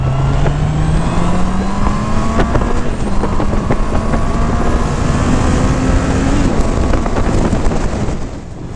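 Honda CB650R A2 four-cylinder motorcycle engine revs up through several gears, pitch climbing then dropping at each shift, loud and close with wind buffeting the microphone.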